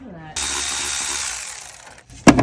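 A power tool such as an impact driver or drill runs steadily for about two seconds, removing the valve cover bolts from an SUV engine. It ends in a brief sharp burst, loud and close.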